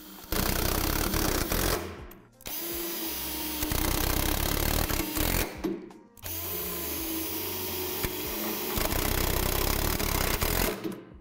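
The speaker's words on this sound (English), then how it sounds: "You will be drilling through the frame" A cordless drill on its highest torque setting whirs loudly in three long runs through a basketball hoop's frame, stopping briefly between them, with a grinding, strained tone as it bores through the material.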